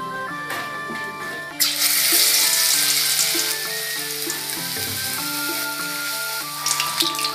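Potatoes fry in hot oil with cumin, ginger, green and dry chilli and bay leaf, a loud steady sizzle that surges when the spices go in and continues under a faint tonal hum.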